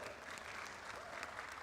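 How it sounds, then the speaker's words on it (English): Audience applause greets a speaker coming onstage for a fireside chat at Future Fest 2024, a steady dense clapping from a crowd that fills the whole short stretch at a moderate level. "Big round of applause."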